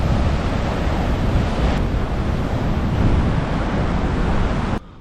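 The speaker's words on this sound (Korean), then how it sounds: "사람 잡아먹게 생겼네 파도가" Heavy ocean surf crashes continuously against the coast at Fisterra, Spain, with strong wind buffeting the microphone, a loud, dense roar throughout that cuts off abruptly near the end.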